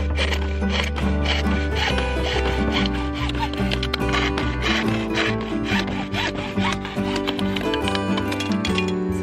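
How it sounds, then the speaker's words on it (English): A hacksaw cuts through PVC pipe in a home workshop, producing close, steady rasping strokes in a continuous rhythmic back-and-forth. "I've measured out and marked my PVC pipe where I need to cut, and I'm going to use the hacksaw"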